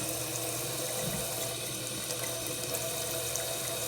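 Liquid runs in a continuous splashing stream as vinegar is poured gently out of a jar holding an egg, sounding like a running sink tap, close and steady without speech.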